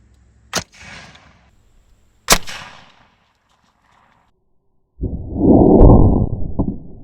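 Homemade redneck bazooka fired twice outdoors, each a sharp loud pop with a short whooshing tail, followed later by a duller thud and rumble of impact.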